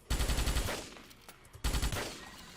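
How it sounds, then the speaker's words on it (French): Rapid automatic gunfire in the Starship Troopers video game from 2006, two dense bursts of rattling shots about a second apart, loud and close. "on me tire dessus, mais je sais pas d'où alors"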